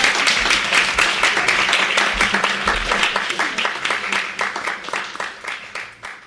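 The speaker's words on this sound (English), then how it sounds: "let's give a round of applause" Audience applause at an author book reading in a bookstore, dense clapping from a small crowd that holds steady and then gradually tapers off, with some voices underneath.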